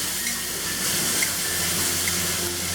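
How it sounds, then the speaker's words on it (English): Tap water running steadily over a pan being washed and rinsed in a sink, a loud continuous hissing rush with faint clinks, close and uninterrupted. "I gave the pan a quick wash and rinse"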